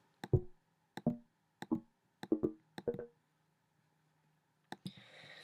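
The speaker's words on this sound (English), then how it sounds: "They're cool for like a percussive, like a synthetic percussive sound." Short synthetic percussive hits sound in a loose rhythm, about six plucky pokes with quick decays, then a pause and a final hit with a noisy burst.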